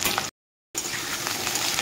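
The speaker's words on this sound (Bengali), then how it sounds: "আর দিয়ে দিব এখানে কেটে রেখেছি আলু দিব। আমি একটু লাল লাল করে ভেজে নিব।" Cut potatoes fry in hot oil with whole white cumin seeds, giving a loud, steady close-up sizzle that breaks off for a moment of silence and then resumes.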